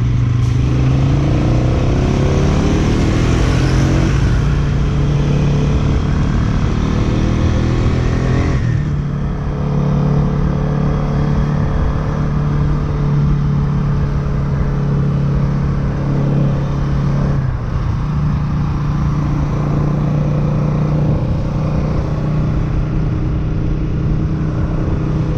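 The engine of a Bajaj Dominar 200 motorcycle runs loud and close for the whole stretch, rising in pitch as it revs and then dropping back twice to a steady, throbbing hum.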